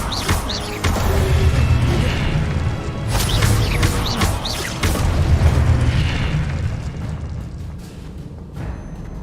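Confringo blasting-curse explosions in Hogwarts Legacy, a series of booming bursts recurring every couple of seconds amid crackling spell effects, loud and close.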